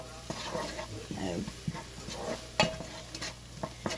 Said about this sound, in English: you want to saute these just to where they kind of get a little bit of a sheen on them